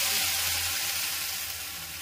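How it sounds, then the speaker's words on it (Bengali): Groundnut and milk paste sizzles in hot oil, a dense steady crackle that stays loud and close and eases slightly over two seconds, with no voices. "এবারে আমি বাদাম আর দুধের যে মিশ্রণটা বেটে রেখেছিলাম ওটা আমি তেলের মধ্যে দিয়ে দিচ্ছি।"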